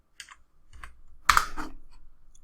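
Numbers typed on a computer keyboard while setting control sizes in a Visual Basic .NET form: a few soft, scattered key taps and a quiet clatter, close and faint, with no talking.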